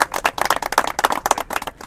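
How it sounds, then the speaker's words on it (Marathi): An audience at a political gathering claps in welcome, giving dense, steady rapid clapping that sounds close and fairly loud. "हे टाळ्या वाजून स्वागत करा तुम्ही सगळेजण"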